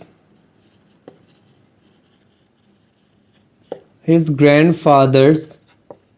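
A few sparse, brief taps and scratches of writing an equation on a board in a maths class, separated by silence, followed by a person speaking loudly near the end.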